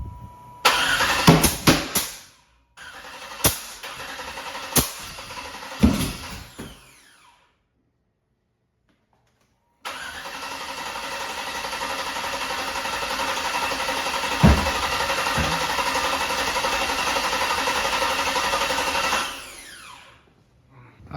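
An LS-swapped engine in an older OBS truck is cranked over in bursts before catching and settling into a loud, steady idle that runs for about ten seconds before being shut off.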